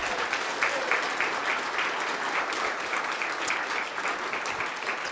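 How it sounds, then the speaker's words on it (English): Audience applause at a university humanities and global studies spring award ceremony, a steady, dense round of clapping that holds evenly for several seconds without any talk over it. "So let's give Tobias a round of applause."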